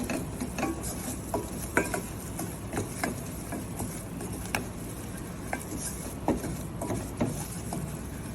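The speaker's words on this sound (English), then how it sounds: "So we keep stirring until the roux turns into brown color." A roux is stirred steadily in a pan, a soft continuous scraping broken by repeated light taps and clicks of the utensil against the metal, with no talking.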